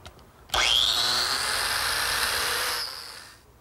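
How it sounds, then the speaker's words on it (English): A biscuit joiner cuts slots in redwood held against a cleat. A sharp motor whine starts abruptly and grinds through the wood for about two seconds, then spins down quietly. "I'm simply placing the biscuit joiner against the cleat and making the corresponding slots"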